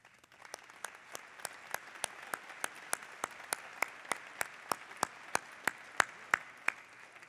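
During a university fall commencement ceremony, evenly spaced claps ring out in a steady rhythm, about three per second, over a faint background hush, growing slightly louder toward the end.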